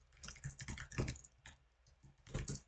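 Rapid, irregular clatter of keys on a computer keyboard during a Nitro Type typing race, close and fairly quiet, in quick bursts with brief pauses.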